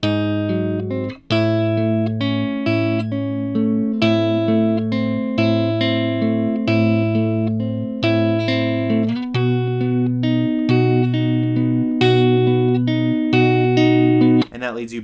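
Guitar playing the pre-chorus of a song, a steady strummed chord progression repeating in even rhythm, close and loud, with no talking over it.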